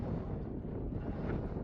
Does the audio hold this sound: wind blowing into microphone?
yes